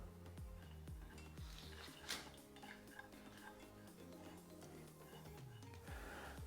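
Fragrance oil being stirred into melted soy wax in a pot for candle making, with a steady run of soft scraping and tapping strokes of a utensil against the container, faint and close.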